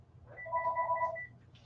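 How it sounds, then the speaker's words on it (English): A phone rings once, a short electronic two-tone trill that is fairly faint and stands alone in a quiet room. "A phone call, hang on."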